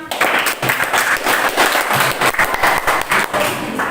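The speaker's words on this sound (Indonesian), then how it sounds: "untuk kelompok 1 berikan tepuk tangan" Classmates clap for a student group in a classroom, a brisk burst of close, dense hand clapping that lasts a few seconds without letting up.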